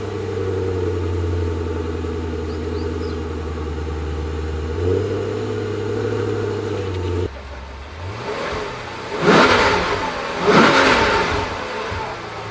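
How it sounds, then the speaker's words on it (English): A Maserati GranSport engine idles with a steady low drone, then is revved hard twice in quick succession, each rev rising and falling. "what do the Gran Sport sound like?"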